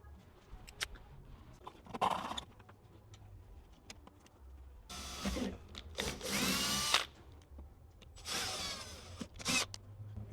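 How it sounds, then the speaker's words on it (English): Power drill boring small drain holes into the bottom of a carbon fiber door on a Nissan 350Z, several short bursts of whining drilling separated by pauses, close and fairly loud. "So we'll drill little holes in that."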